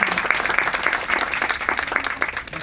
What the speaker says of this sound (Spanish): Démosles un aplauso a los